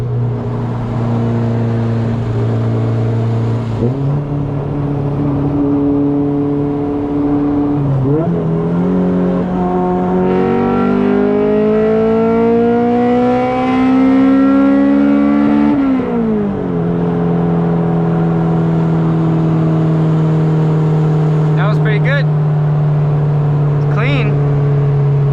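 An all-motor B17-engined Honda CRX pulls hard on the street, its engine note climbing steadily through a gear, dropping at a shift and rising again, loud and close from inside the car with no talk over it.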